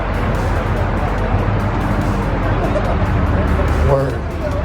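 A car rolls in at a car show, its engine a steady low rumble close by, with voices and crowd chatter throughout.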